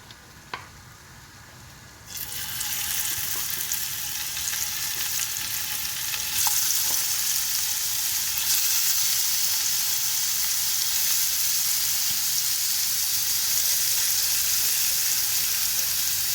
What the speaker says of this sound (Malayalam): കുറച്ച് ഉണക്കസ്രാവും കൂടി വറുത്തത്